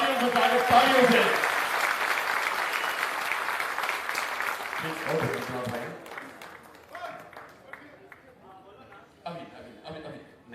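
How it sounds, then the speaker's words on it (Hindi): Crowd applause welcoming Prashant Kishor at a Jan Suraaj gathering in Bihar; loud clapping that fades after a few seconds while someone talks over it, with scattered light laughter. "तालियों से स्वागत, तालियों से स्वागत,"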